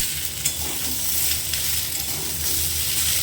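Long beans (borboti) frying in a pan give off a continuous close sizzle and crackle, with occasional stirring noises.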